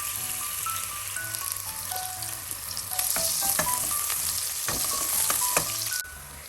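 Onions fry in hot oil in a pot, a dense crackling sizzle with frequent sharp pops that grows louder midway and then drops back near the end, with no voices.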